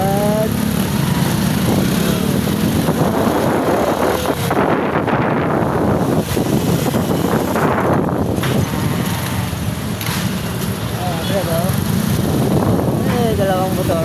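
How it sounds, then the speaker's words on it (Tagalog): Two motorcycles ride through heavy Saturday traffic around Muntinlupa in the Philippines, their engines droning steadily under constant wind buffeting on the microphone, while a rider talks over the noise. "Dalawang motor."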